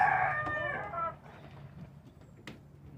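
A hen of a breed new to the flock gives a loud, drawn-out cackle up close, then trails off into softer clucks, with a short sharp squawk near the end.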